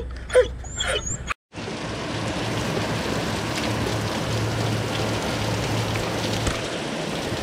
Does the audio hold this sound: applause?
no